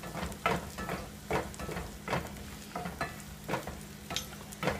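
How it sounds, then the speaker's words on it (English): Flour sizzling in hot fat in a pan while being stirred into a roux for chorizo gravy, a steady soft frying hiss broken by repeated rhythmic scrapes of the utensil. "You want to sizzle your flour until you, just for a couple of minutes, till you smell that aroma of flour"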